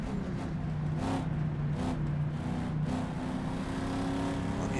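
A race car engine in rFactor at the Targa Florio, 1967 era, holds a steady, loud drone, its pitch dipping and rising as the throttle lifts and returns over bumps, with no talk.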